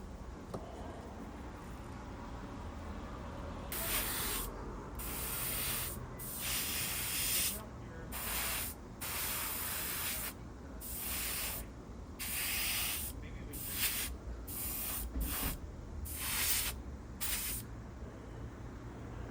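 An airbrush sprays thinned Tamiya khaki paint onto a model in a series of short hissing bursts, some brief and some lasting a second or more, separated by quiet pauses over a faint background.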